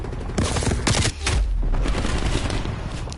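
Bursts of AK-47 automatic rifle fire in the video game Call of Duty: Cold War, loud and close, with rapid shots running almost the whole way through and a heavier boom near the start.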